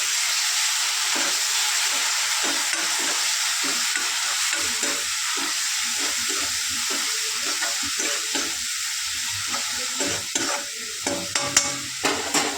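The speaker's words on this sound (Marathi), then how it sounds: "आता याच्यामध्ये आपण हे जे वाटण केलेलं होतं ते टाकून घेऊ आणि ह्याला पण चांगलं परतून घेऊया" Ground masala paste sautéing in oil for a dhaba-style whole masoor dal, a steady close sizzle with repeated scraping stirs growing more pronounced toward the end.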